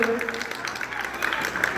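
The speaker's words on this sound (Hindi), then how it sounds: "एक जोरदार ताली होना चाहिए" Audience applause during a Hindi general knowledge quiz, steady close clapping over a voice talking throughout.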